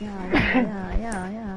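One quick sneeze up close, followed by a person briefly speaking.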